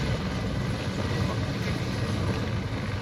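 A military helicopter in ArmA 3 flies during a sandstorm, giving a steady, dense rotor and engine rumble with a rough, noisy wash, held at constant volume without talk.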